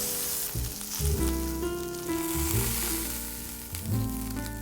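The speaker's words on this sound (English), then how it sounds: "place the mushrooms all with one side down and let them cook until brown" Mushrooms sear cut side down in a hot pan with a loud, steady sizzle and crackle, close up and without talk, while a tonal hum wavers underneath.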